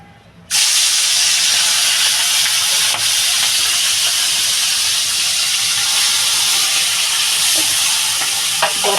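Prawn heads drop into a hot curry in a home kitchen and set off a sudden loud, close sizzle that keeps frying steadily, with faint stirring clinks near the end.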